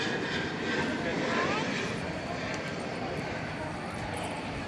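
An aircraft arriving at DFW Airport roars steadily, a broad, loud jet rumble that stays constant throughout with no other sounds standing out.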